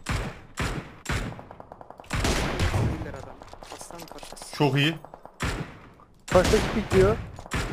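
Repeated bursts of rapid gunfire in PUBG Mobile, sharp loud volleys separated by short gaps, some shots sounding distant, with players talking over the shooting.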